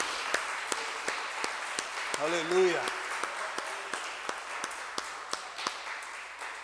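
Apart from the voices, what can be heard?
applause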